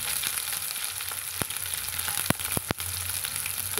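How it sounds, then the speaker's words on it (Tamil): Chopped small onions sizzle in hot oil with mustard seeds as a continuous close frying hiss, broken by a few sharp pops and crackles near the end. "கடுகு நல்லா பொரிஞ்சதும் நம்ம வெட்டி வச்சுக்கிற சின்ன வெங்காயத்தை சேர்த்திக்கலாங்க."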